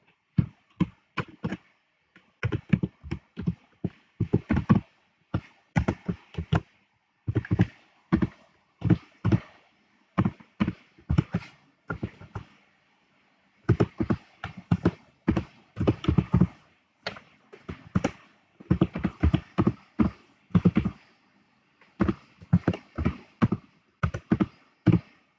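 Someone types C++ code on a computer keyboard in quick bursts of close, crisp key taps, pausing briefly between runs of keystrokes.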